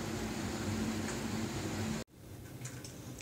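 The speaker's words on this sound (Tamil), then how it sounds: "இப்போ எடுத்து வச்சுருக்க தேங்காயும் ஜீரகமும் மிக்ஸி ஜாரில் போட்டு அரைச்சிக்கலாம்." A mixer grinder grinding coconut and cumin: a steady, loud whirring motor runs for about two seconds, then cuts off abruptly, leaving a quieter hum of the room.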